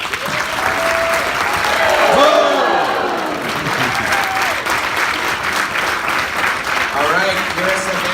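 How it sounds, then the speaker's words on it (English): Crowd applause at a kids' speaking showcase event, a steady moderate roar of clapping with a host's voice and other voices over it. "A big round of applause for our first two good boomers."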